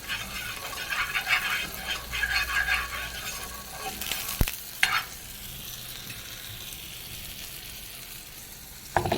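Ghee hitting a hot pan, a crackling sizzle with bursts of stirring and a couple of sharp clanks, then a steady fainter hiss, close by with no talk.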